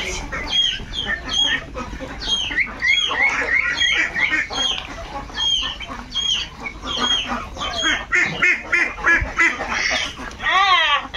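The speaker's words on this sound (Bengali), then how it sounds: "এই তো এখানে সবগুলো চীনা হাঁস।" A flock of Chinese ducks quacks and chatters nonstop up close, loud overlapping calls from many birds with a few clucking notes mixed in.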